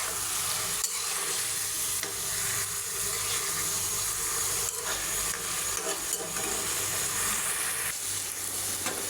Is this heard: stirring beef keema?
yes